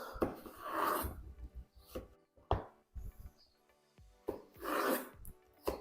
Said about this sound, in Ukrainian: Кабачок нарізаю теж кубиками.